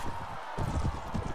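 Horse hooves galloping in the video game Mount & Blade Warband, a quick run of muffled thudding hoofbeats in rapid rhythm, close and fairly loud.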